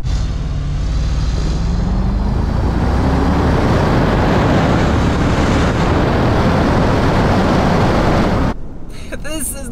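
A 2022 Infiniti QX80, a heavy SUV, accelerating hard with a loud, sustained engine roar building steadily over several seconds before cutting off abruptly near the end.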